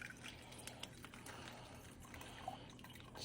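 Cooking juices from sous vide pork loin are poured into a pan, a faint, close trickle with small drips and splashes over a few seconds.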